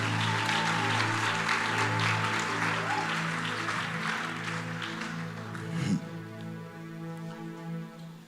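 A church congregation applauds loudly and steadily, a dense wash of clapping that fades after several seconds into a sustained organ-like musical tone.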